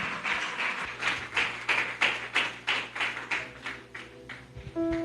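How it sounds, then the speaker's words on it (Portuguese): A church congregation claps joyfully in a steady, even rhythm, a dozen or so crisp, loud, roomy beats in a row. "Recebe o servo de Deus com palmas bem alegres para Jesus."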